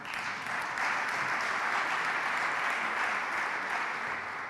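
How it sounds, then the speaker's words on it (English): A symposium audience applauds a speaker from a German technical service provider, with steady, even clapping that holds at a constant level throughout before easing slightly at the end. "Applause for Rainer."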